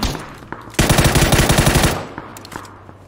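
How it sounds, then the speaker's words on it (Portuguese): Machine gun fire in the video game PUBG: a loud, close, rapid burst of about a dozen evenly spaced shots lasting just over a second, followed by a few scattered fainter shots. "É aqui os tiros, né?"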